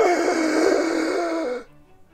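A voice imitates exaggerated, showy breathing of the kind heard in online videos: one long, breathy, close exhale lasting about a second and a half, then it cuts to near silence.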